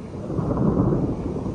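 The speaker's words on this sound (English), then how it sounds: "Oh my goodness, that was thunder." A loud, close rumble of thunder rolls on continuously outdoors over a garden, deep and steady without a sharp crack, fading slightly at the end.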